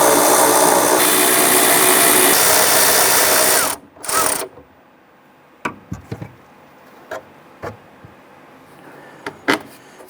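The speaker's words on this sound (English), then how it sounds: "We want to go ahead, loosen, and remove those nuts. We're going to use a 7/16 deep socket," A ratchet with a 7/16 deep socket loosening the tail light nuts on a 1994-2004 Ford Mustang: a loud steady whirring run, then a pause and a series of separate sharp clicks and knocks, close up.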